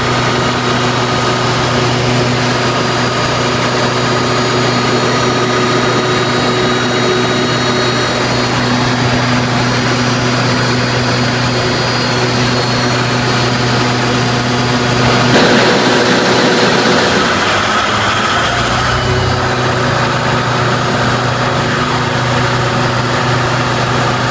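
A Caterpillar 3516 quad-turbo V16 diesel running steadily, loud and close, with a deep droning rumble and high turbo whine that hold constant throughout, with a brief shift in tone partway through.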